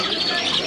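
Birds chirp and tweet at a bird market in Kabul, a dense chorus of small calls with some cooing, steady and fairly near, with no talk over it.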